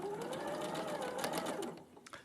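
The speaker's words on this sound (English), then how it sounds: "We're stitching on the line." A sewing machine stitches along a line, a quiet, steady whirring hum with fast, regular needle clatter, close by and uninterrupted.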